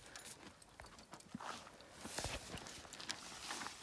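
Faint, uneven clip-clop of a pair of draft horses' hooves at a walking pace, a little distant, with soft background noise throughout.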